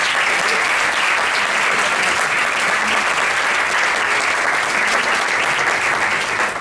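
Sustained, dense applause from an audience after a performance at a festival award ceremony, steady and loud throughout without letting up.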